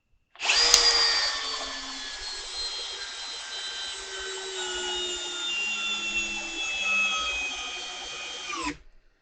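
Bosch 12V drill running in drill mode at speed 1, driving into a 5.5 inch workpiece: one continuous loud motor whine with a steady high pitch that slowly falls under load, ending abruptly after about eight seconds.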